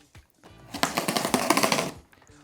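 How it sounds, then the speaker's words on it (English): A hammer claw slides along the packing tape where two cardboard box flaps meet, splitting it open: a rapid, rattling crackle of tearing tape lasting about a second and a half, close and fairly loud. "I'm going to be using the claw of the hammer, and I'm going to be sliding it down the tape where the two box flaps meet to split it open"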